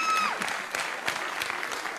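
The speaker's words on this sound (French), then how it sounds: "On peut re-applaudir Christiane Catarin" A sports event audience claps in a steady, moderately loud burst of applause, with a short whistle-like tone at the start.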